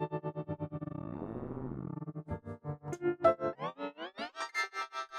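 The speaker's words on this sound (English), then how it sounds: "This granulize function will determine how often the granular processor is working on what we're hearing." A pulsing, stuttering synthetic tone chopped into rapid grains by granular processing, its pitch wobbling and climbing over steady rhythmic throbs, heavily processed and electronic.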